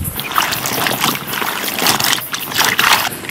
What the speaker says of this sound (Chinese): 先把辣子往进洗一下